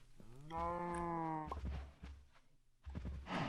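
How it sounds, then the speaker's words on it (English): Minecraft cow mooing in-game, a long drawn-out moo with a strong harmonic tone followed by shorter bovine grunts and low rumbling game noise, fairly loud and close with no talk. "I've completely forgot about this cow. The purple cow."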